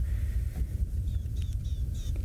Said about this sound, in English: That is the call of a rattling cisticola.